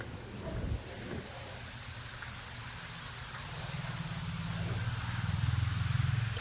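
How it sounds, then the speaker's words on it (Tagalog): Strong, cold wind on an outdoor jogging route roars steadily against the microphone, a dense rumbling rush that grows louder toward the end, with a couple of brief thumps early on. "Lakas ng hangin dyan guys talaga."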